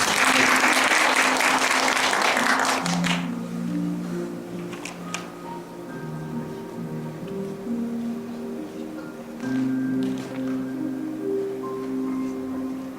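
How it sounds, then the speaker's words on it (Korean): An audience at a keynote lecture at a health sciences college gives a short burst of loud, dense clapping that fades after about three seconds, followed by quieter room sound. "박수 한번 주시면"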